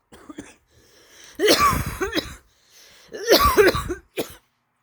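Two bouts of harsh coughing, each a cluster of several rough coughs, close and loud, with short quiet gaps between them.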